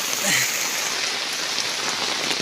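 Heavy rain pours down steadily on a surface nearby, a dense continuous hiss of drops throughout.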